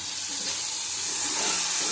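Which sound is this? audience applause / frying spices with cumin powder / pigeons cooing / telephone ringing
frying spices with cumin powder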